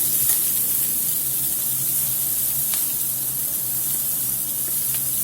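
Japanese cross cut ribs sizzling steadily in a hot pan, a dense even hiss of frying fat with faint pops, continuous and close with no talk.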